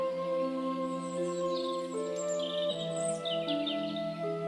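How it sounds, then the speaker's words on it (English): Birds sing and chirp in a calm outdoor scene, several short bright calls layered over a steady sustained musical drone, continuous and fairly soft. "You can hear birds singing to each other."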